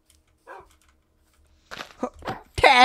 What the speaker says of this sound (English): Little puppy. Come play with me.